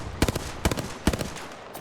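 Gunfire in the Apex Legends video game, three quick bursts of rapid shots spaced roughly evenly, loud and sharp against a steady background.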